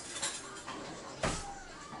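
A metal spoon scrapes and clinks against a freshly picked ripe homegrown papaya as the seeds are scooped out, with a few soft scrapes and one sharper knock near the end.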